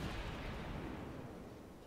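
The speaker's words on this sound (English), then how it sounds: "Oh boy, I just ate some torpedoes." Torpedo hits explode against a warship in World of Warships, heard as a faint, steady, low rumbling roar that slowly fades over a couple of seconds.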